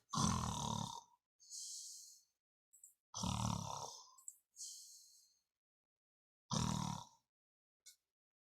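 A person imitates snoring, three rasping inhaled snorts each followed by a breathy whistling exhale, spaced by silence, close and fairly loud.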